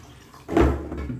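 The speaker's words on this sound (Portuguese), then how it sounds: "Agora eu coloco a água." A brief rush of tap water pouring into a bowl of chicken, starting abruptly and splashing steadily at close range.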